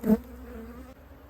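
Honey bees around a hive in the Texas Hill Country buzz close and steadily, with one louder burst at the start and no voices.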